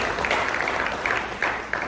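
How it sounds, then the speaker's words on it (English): Audience applause at a community speech event in Toronto, a dense, even patter of many hands clapping steadily in a hall, with no voices over it. "I want to, once again, to give a round of applause to Mama Pitimoff"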